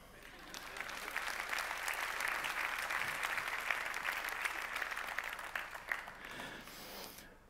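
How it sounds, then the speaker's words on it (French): Sustained audience applause at a business federation gathering, dense steady clapping from a large crowd that swells and then tapers off after several seconds. "Applaudissez."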